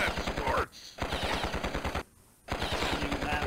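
Rapid automatic gunfire from turrets in Epic Little War Game, loud and continuous bursts with two brief gaps, a dense rattling rhythm throughout.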